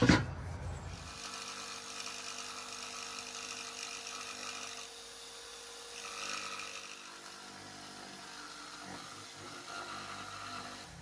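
A power saw cuts wood for a robin platform shelter, whining loudly at first, then running on as a high, steady buzz that sags and rises as the blade works through the board.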